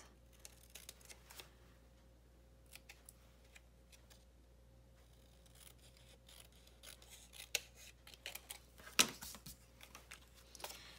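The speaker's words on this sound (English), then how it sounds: "I think I'm gonna cut this." Quiet snips and crisp clicks of scissors cutting paper for a pop-up Valentine's card, sparse and irregular at first, then busier, ending in a sharper cluster of cuts near the end, with no voices.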